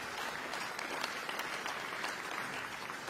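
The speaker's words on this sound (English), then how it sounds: "So please, one more round of applause for these." At an outdoor jazz concert, a crowd gives applause for the event's sponsors, a quiet, distant, continuous patter of many hands clapping at an even level.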